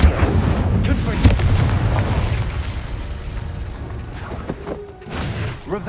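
Confringo spell explosion in the Hogwarts Legacy video game, a loud booming blast followed by rumbling, crackling debris that tapers off, with a few sharper bursts near the end.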